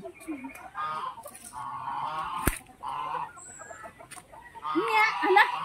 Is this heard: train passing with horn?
no